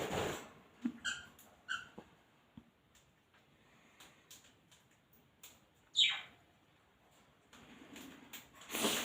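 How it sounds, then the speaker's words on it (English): Pet birds chirp faintly indoors, scattered short tweets and calls with quiet gaps, soft and somewhat distant. "Mad birds they are."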